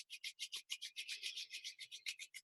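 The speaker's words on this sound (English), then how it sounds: "begin to rub your palms together, slowly at first, but then you can rub them a little bit quicker" Palms rubbing together during a mindfulness exercise: quiet, close, brisk swishing strokes repeated about every fifth of a second in a steady rhythm, alone without speech.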